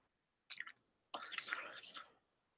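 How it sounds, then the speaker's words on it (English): Someone eating while chatting during a drawing session, with two bursts of soft, wet chewing and mouth sounds close to the mic, the second longer and denser, over a quiet background. "Can you hear me like chewing and stuff?"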